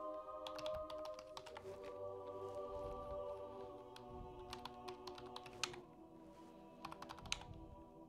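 A computer keyboard is typed on through a BZBGEAR KVM HDMI extender, with quick clusters of crisp key clicks in separate bursts over a low, steady electronic hum, close and fairly quiet.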